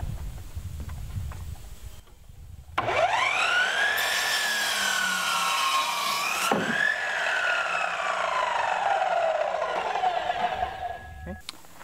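A power saw cuts through a 2x6 wooden board for workshop skid footers, a steady loud whine with a rising and falling pitch lasting several seconds, starting abruptly after a quiet moment.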